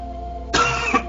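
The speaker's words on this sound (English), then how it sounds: "I do have a bit of a cough" A man's single sharp cough bursts out over a low electronic hum, followed by a brief second catch of the throat a moment later.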